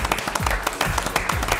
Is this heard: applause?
yes